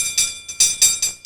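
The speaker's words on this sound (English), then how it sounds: "this is the sound the bell makes" A bell rings in five quick bright strikes, each one clear and close, each decaying fast before the next lands in an even rhythm.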